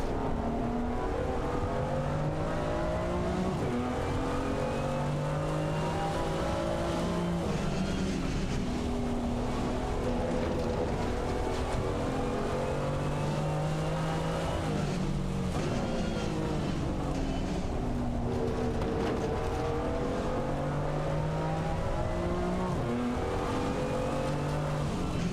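GT4 race cars racing at Snetterton circuit on cold tyres, engines revving up and down through gear changes as cars pass, a continuous layered roar of several cars close together.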